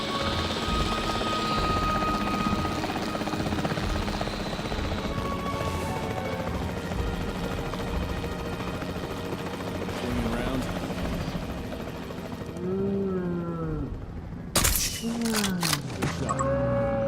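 The capture team helicopter in the Jurassic World Evolution 3 video game drones steadily throughout, its rotor hum loud and constant, with game sounds and effects layered on top near the end.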